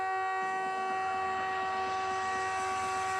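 Loud, sustained NHL hockey goal horn blasting steadily for about three seconds, a rich chord of stacked tones with no pauses or voices over it.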